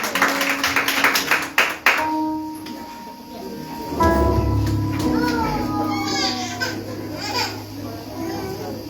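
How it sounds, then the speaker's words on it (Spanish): A church congregation claps during a Sunday morning service, sharp scattered claps for about two seconds, then children's voices and chatter take over. "Usted le brinda un fuerte aplauso al Rey."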